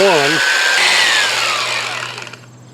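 A Jellas 8-amp electric belt sander whines loudly and steadily, its pitch shifting as it works, with a brief voice at the start before winding down.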